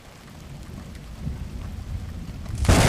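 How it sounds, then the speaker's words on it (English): Low rumbling thunder with rain builds steadily, growing louder toward the end where a sharp, bright crack or burst hits near the close. "I think thunder is coming."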